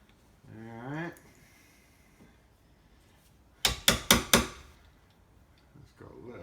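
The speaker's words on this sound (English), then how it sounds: "I'm marking down about 1/2 inch on each side with my freshly sharpened chisel." A freshly sharpened chisel strikes a French door to mark it, four sharp, close, evenly spaced taps in quick succession. Brief speech-like voicing comes earlier and a faint rustle follows.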